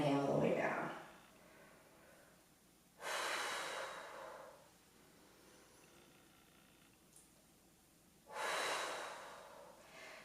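A person breathes through a dumbbell upper body strength workout, each breath a close, loud, airy exhale or inhale, three of them spaced a few seconds apart with quiet between.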